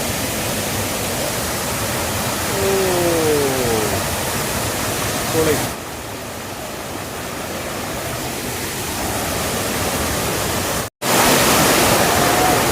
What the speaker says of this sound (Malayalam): സൂപ്പറല്ലേ വെള്ളച്ചാട്ടം